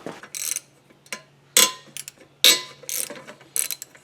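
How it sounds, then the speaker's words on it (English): A ratchet loosening a 12 mm bolt on a Subaru engine during engine removal, with several loud, close bursts of rapid clicking separated by short pauses. "Just loosen this bolt"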